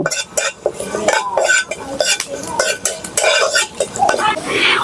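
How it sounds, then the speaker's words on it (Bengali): Whole coriander seeds, cumin and two dried chillies are dry-roasted and stirred in a pan, producing close rattling scrapes and clinks in irregular bursts, with a voice speaking faintly underneath at times. "আমি এগুলো নেড়ে সেড়ে ভেজে নেব"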